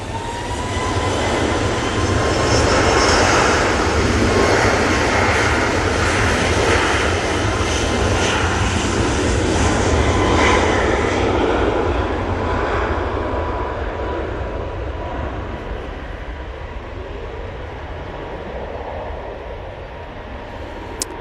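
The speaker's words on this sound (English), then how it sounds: "Ryanair Max 8" A Ryanair Boeing 737 Max 8 airliner's engines roar loud and close at Manchester Airport, a broad steady rumble with a faint whine that slowly fades as it moves away.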